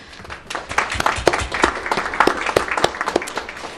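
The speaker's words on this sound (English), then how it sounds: "I want to thank all of our three speakers and give them a round of applause" A seated audience at a policy talk on Bangladesh's national elections gives the three speakers a round of applause, brisk individual claps rising into a close, sustained patter.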